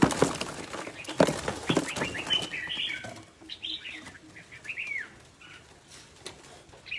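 Large birds flap their wings in a flurry of rustling beats, then chirp and tweet in short bright calls as the flapping dies down, all fairly close and without talk.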